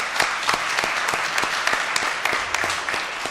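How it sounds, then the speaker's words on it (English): Applause for a City Council tribute to the Super Bowl-winning Philadelphia Eagles, sounding as steady, moderately loud clapping from a chamber audience, with a few sharper individual claps standing out for about three seconds. "Give them a round of applause as well."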